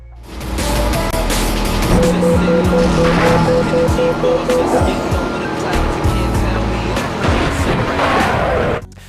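Racing cars in a PSP open-world game roar continuously with shifting engine pitch and brief tire squeals, mixed with game music and effects, loud and close throughout.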